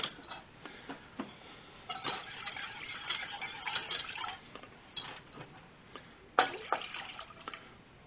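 Milk is whisked in a pan for potatoes au gratin, off the heat, producing irregular light ticking and clinking of a whisk against metal with soft liquid sloshing, quiet and close, with no talking.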